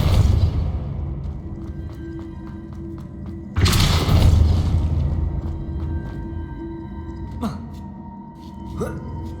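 A Depulso spell blast in the Hogwarts Legacy video game: a sudden, loud burst of force with a rushing whoosh that fades over a second or two, above a steady game soundscape with scattered clicks and small impacts.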